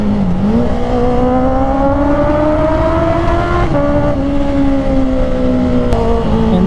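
A 2024 Honda CB650R middleweight motorcycle with E-Clutch revs hard at high RPM, a loud sustained engine scream that climbs, dips briefly and climbs again, close and alone.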